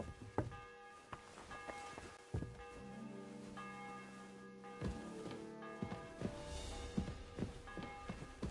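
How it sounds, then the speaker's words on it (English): A church bell tolling in the medieval game Kingdom Come Deliverance 2, ringing in repeated strikes with long resonant tones, heard at moderate distance amid footsteps and soft thuds. "The bell's ringing for Hans the 5th time."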